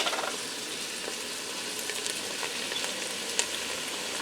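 Corn sautés in a Ninja Foodi and chunky salsa is poured onto it, giving a soft, steady sizzle with faint scattered stirring clicks and one brief knock, no voices.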